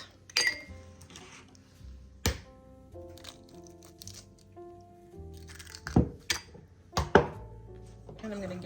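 Eggs and oil go into a mixing bowl for cake-mix Christmas cookies: a few sharp taps and knocks of shells cracking against the bowl, clinks of glass, and soft pouring, spaced out and close, with a little talk.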